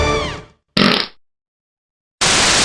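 Cartoonish fart sound effects from the video game You Don't Know Jack play in three loud, separate bursts: a wobbly tonal one, then a short buzzy one, then a rough sputter after a pause.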